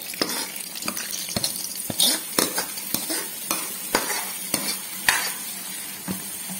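A tempering of curry leaves fried in oil and tipped into potato curry, with bright sizzling and repeated sharp clinks of a spoon against the pot, close and clear, without speech.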